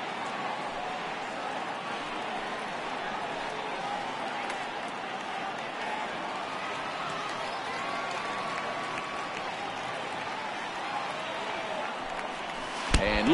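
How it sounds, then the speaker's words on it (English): Steady murmur of a baseball crowd in the MLB 18 video game, a dense continuous hubbub that holds at an even level throughout, with a short sharper burst near the end. "I can hear the crowd murmuring now, wondering if he hit him on purpose"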